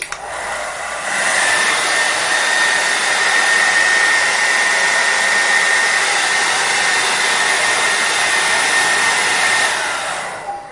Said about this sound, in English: You'll notice when I'm drying my hair, I'm still pushing it in the direction of the ultimate style